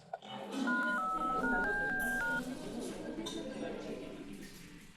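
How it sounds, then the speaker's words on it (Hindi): A short run of electronic keypad tones as a phone number is dialed, with faint clinks and a voice in the background. "रुक, अंकल को फोन करता हूं।"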